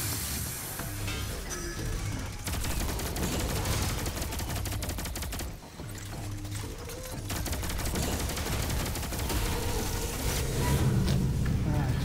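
Video game gunfire in GOS: Triumph crackles in long, dense automatic bursts, loud and near, with a brief lull midway before the shooting resumes and builds again.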